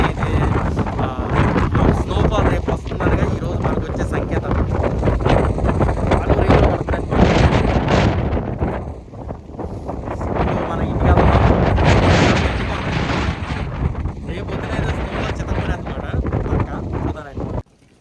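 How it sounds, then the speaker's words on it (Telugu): Strong wind blows before snowfall at an abandoned park in China, a heavy, steady roar buffeting the microphone almost without pause and easing briefly near the middle. "మొత్తానికి అయితే గాలి స్టార్ట్ అయిపోయింది"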